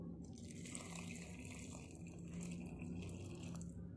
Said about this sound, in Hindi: और अभी हम इसमें गर्म पानी डालेंगे।